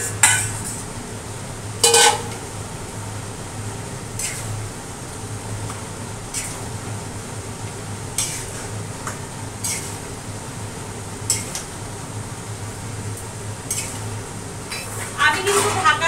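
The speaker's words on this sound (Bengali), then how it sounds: "এবার এটাকে ভালো করে মিক্স করে নিচ্ছি এই ম্যারিনেট করা চিকেনগুলো।" Marinated chicken is mixed in a pot, with scattered metal spoon scrapes and clinks against the cookware over a steady fan hum, in a few sharp bursts spread across the stretch.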